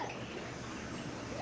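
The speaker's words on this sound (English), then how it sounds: "Wild dog." A dog whimpers and yips softly and steadily over a low background hum, the sounds faint and close, with no one talking.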